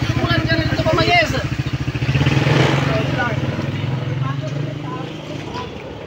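Bajaj Dominar 400cc motorcycle engine on a test drive, a loud close pulsing thump that rises in revs then settles into a steady drone, with people talking over it.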